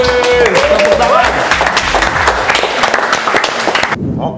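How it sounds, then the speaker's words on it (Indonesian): Applause at a televised cooking competition, a loud burst of clapping from a studio group with voices and cheers mixed in, then cutting off abruptly near the end. "Tepuk tangan."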